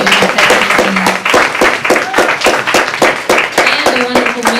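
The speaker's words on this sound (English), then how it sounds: "please give another round of applause for this testimony" Audience members clap together in a quick, steady rhythm after a testimony at a celebration event in Miami, loud and close, with voices or music tones running beneath the claps.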